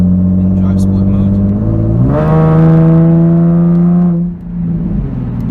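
A modified 2011 Infiniti G37xS coupe accelerates in drive sport mode, its engine note climbing loudly for about two seconds before easing off, recorded from inside the cabin.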